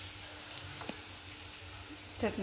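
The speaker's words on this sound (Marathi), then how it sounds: "आता मी याच्यामध्ये टाकली चटणी आणि हलवते" Chutney stirred into coriander frying until crisp, a soft low sizzle with faint scraping and a couple of light taps, quiet and close, ending in a brief clatter.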